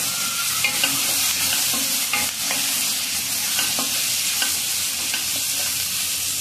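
Onion and turmeric frying in a pan on a low flame, a steady hiss of sizzling oil with soft repeated scraping and clinks of a spoon stirring, close and continuous, with no talk.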